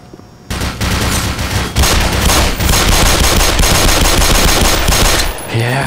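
Sustained automatic gunfire in the shooter game Black Mesa, a loud continuous rattle of shots that runs without pause for several seconds before cutting off.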